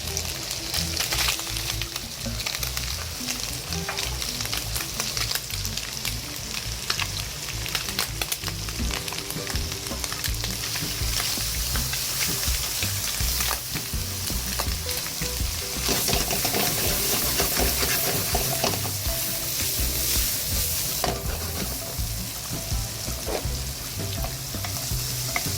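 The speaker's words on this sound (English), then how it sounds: "About 2-3 minutes saute with the bacon and the oyster." Bacon and oysters sauté for fried rice in a hot pan, a loud continuous sizzle with frequent stirring scrapes and clatter running unbroken throughout.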